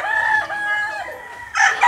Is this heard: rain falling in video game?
no